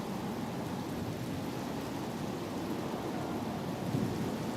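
Steady rain with a low thunder rumble in the Oblivion video game, a continuous dense wash of rainfall that swells briefly near the end, with no voices.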